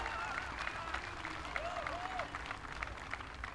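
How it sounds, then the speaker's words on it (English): Spectators applauding a made putt at the 2025 PDGA Pro World Championships disc golf final round, steady moderate clapping from a gathered crowd, somewhat distant, with a commentator's voice faintly heard over it. "Crowd loves it."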